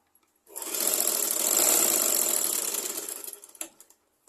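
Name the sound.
sewing machine stitching a petticoat shoulder seam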